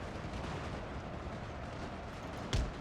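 A single cannon shot booms out near the end of a Napoleon Total War battle with the Papal States army, a sharp loud blast over a constant rumbling battlefield din.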